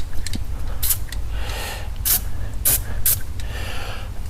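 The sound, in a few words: spraying WD-40 lubricant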